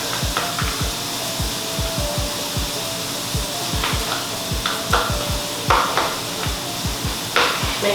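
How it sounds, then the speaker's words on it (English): Fresh herb and garlic butter being mixed in a bowl, with a steady series of soft scraping and stirring strokes repeating close up, with no talking. "I'm gonna mix this butter up."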